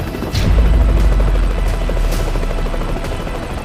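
An unidentified aircraft flies low over the treetops at a ranch, a loud, steady rotor-like drone that swells in and continues throughout.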